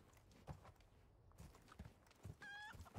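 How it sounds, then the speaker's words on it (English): A chicken in the video game Resident Evil 4 gives a few short, moderately faint clucks amid soft footsteps and ambient game sound, with a brief higher chirp near the end. "Chicken."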